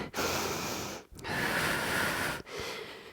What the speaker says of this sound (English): Inhale on the way down. Forceful exhale on the way up.